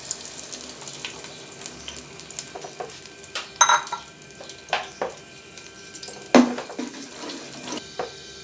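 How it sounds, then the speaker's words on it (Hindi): A spoon scrapes and stirs a thick onion and yogurt mixture into hot oil in a pan, with intermittent clinks and a soft sizzle and bubbling underneath. "इसको मैं इस ऑयल के अंदर मिक्स कर रहा हूँ।"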